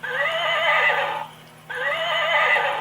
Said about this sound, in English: as his horse gave a neigh